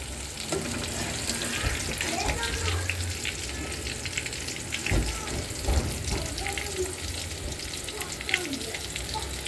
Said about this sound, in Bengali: রাতে ইলিশ মাছ আর পটল কাঁকরোল ভাজতেছি